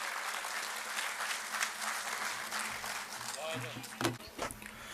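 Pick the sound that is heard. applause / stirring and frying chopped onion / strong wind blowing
applause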